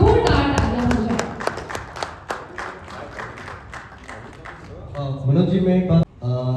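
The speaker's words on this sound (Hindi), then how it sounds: "इस इनिशिएटिव के लिए फिर से जोरदार तालियां हो जाए" Scattered, uneven clapping from a small crowd at a Bhojpuri film press conference, with a burst of sharp claps early on that thins out while people talk loudly over it.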